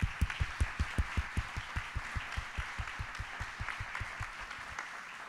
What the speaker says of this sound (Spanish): déjame pedir un aplauso para esta enorme y bellísima comunidad